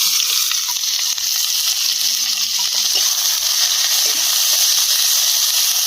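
Bay leaf and chopped onion fry in oil in a wok, giving a steady, close, bright sizzle that holds throughout with faint stirring clinks and no talking.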